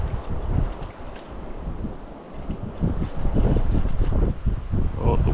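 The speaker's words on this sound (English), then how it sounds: "Oh, the wind's not helping." Gusty wind buffets the microphone outdoors beside the Peace River during gold panning, a steady rough rumble with stronger gusts and faint water sounds beneath.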